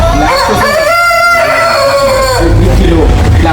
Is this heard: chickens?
yes